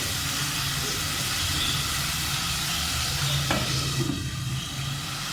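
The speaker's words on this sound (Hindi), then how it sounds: "पाँच से 6 मिनट तक हमने इसको भूनना है" Mutton fries in a pan with a loud, continuous sizzle and hiss of steam, a short scrape of stirring cutting through partway, and no voice.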